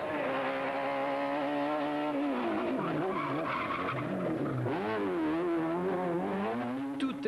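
The Seat Ibiza Kit Car of Erwin Weber, running as the opening car at the 1995 Catalunya Rally, roars past on a stage, its engine note climbing and dropping through gear changes with tire scrub as it sweeps by loudly.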